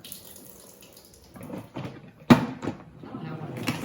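Water pours from a pour spout in a kitchen, a soft running trickle that swells with a sharper splash partway through, fairly quiet and close.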